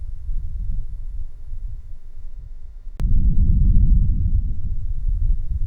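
Sandstorm wind over a rooftop in a Rajasthan city: a heavy, low, continuous rumble of gusts buffeting the microphone, briefly dipping, then swelling louder after a sharp knock.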